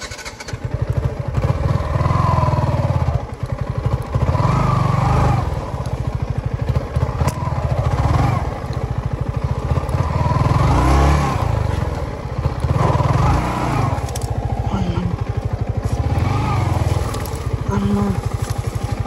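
Yamaha MT15 motorcycle engine running steadily while riding off-road, a loud continuous drone with rough throttle changes, heard up close with people talking over it.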